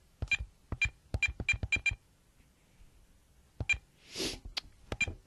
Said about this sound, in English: I'll dial his number.